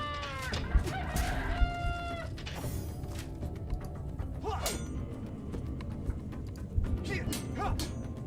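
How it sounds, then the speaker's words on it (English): Mechanical roosters in the video game Divinity: Original Sin crow with harmonic, synthetic-edged calls amid clucking and ambient game noise, several crows across the span at moderate loudness. "those are mechanical roosters"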